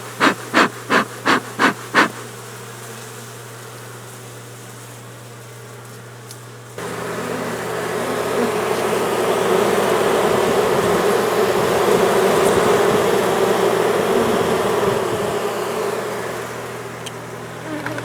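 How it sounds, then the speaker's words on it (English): Honeybees from a colony in a tree being scooped off the trunk during a bee removal, a dense, steady swarm buzz that swells louder after a few sharp taps at the start, with no talking. "I'm gonna go ahead and gently scoop the bees off the face of the tree little by little"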